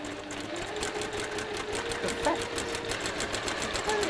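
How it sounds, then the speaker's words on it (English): A sewing machine stitches quilt pieces along a marked line, its needle running in a fast, even, steady whir throughout, close but fairly quiet. "we're going to sew on the line and then trim it away"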